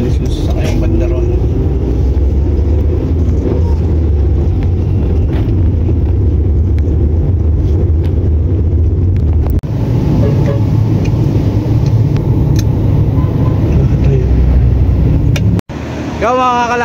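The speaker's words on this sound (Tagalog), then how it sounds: "Bibilis yung sasakyan banda ron." Road traffic rolls past steadily, a continuous loud rumble of car engines and tyres with a heavier vehicle swelling near the end, while people talk over it.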